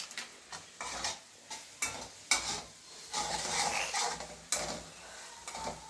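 Everest pav bhaji masala and Byadgi chilli paste roasting together in a pan, with a spoon scraping and stirring in repeated strokes over a soft sizzle.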